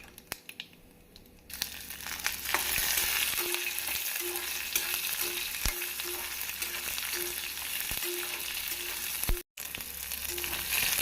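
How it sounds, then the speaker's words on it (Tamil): Small onions and garlic frying with urad dal in an oil-filled pan for onion chutney, giving a loud, continuous crackling sizzle that swells after a quiet start, with a brief dropout near the end and no speech. "உளுந்து இப்படி பொன்னிறம் ஆனதும் நம் வெங்காயத்தை போட்டு விடலாம்"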